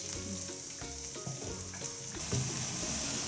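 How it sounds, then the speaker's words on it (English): Mushrooms and shallots fry in a pan, sizzling steadily and close with a few stirring scrapes and a brief swell of sizzle near the end. "so the shallots are translucent, so now let's add in the mushrooms."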